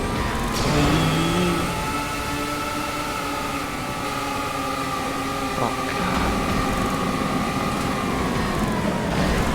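Car engines in a racing video game rev and drone steadily for several seconds, with shifting pitch as the cars accelerate, loud and continuous, with brief voices faintly underneath.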